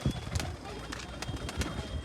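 Pigeons cooing inside a pigeon room, low soft murmuring coos repeating through the clip alongside rustling and background voices.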